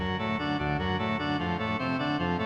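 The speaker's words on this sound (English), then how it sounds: "The Yin and Yang one is easily the best bonus character in this phase because he sounds like this." The Yin and Yang bonus character from the Sprunki game, a looping musical pattern of rich harmonic tones with a steady repeating rhythmic pulse, continuous and clean throughout.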